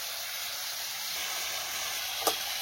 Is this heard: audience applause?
no